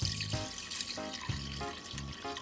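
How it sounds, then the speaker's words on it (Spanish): Water pours from a tap into a pot of pork meat with bay leaves and salt, a gurgling, splashing stream that swells and drops in short pulses, close and fairly loud. "vamos a cubrir con agua hasta que cubra la carne"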